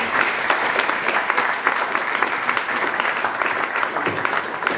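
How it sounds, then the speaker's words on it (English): Audience at a product meetup breaking into a steady round of applause, dense clapping that stays loud and even for several seconds with no talking over it. "A big round of applause"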